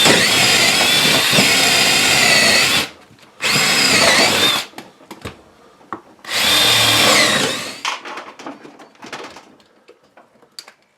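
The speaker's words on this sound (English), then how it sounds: "So I'm going to drill through, make some spots where I can get my Sawzall" Power drill boring through a wall to cut holes to the outside for a Mr. Heater Big Maxx unit heater, three loud sustained drilling bursts separated by pauses, followed by scattered clicks and light handling noise.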